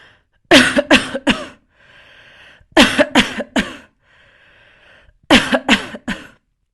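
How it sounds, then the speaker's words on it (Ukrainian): Loud, deliberate coughing comes in three close bursts, each of three or four hard coughs followed by a short breathy pause, near and clear with no talk. "І тепер попробуйте голосно, е, щедро закашляти."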